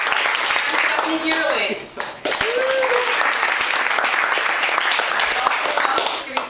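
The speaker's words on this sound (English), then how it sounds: "We're cheering." An audience applauds and cheers in a dense, continuous wash of clapping that runs throughout, with a brief dip partway through and a voice calling out a name over it.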